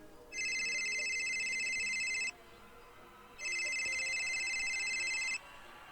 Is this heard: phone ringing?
yes